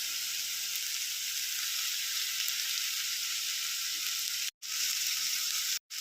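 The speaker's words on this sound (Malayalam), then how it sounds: "ഇനി നമുക്ക് ഈ ഉള്ളിയെല്ലാം നല്ല പോലെ ഒന്ന് വഴട്ടിയെടുക്കാം" Onions and chopped green tomato sautéing in a pan, an even close hiss of frying oil that runs steadily, broken by two brief cuts of silence near the end; no voices.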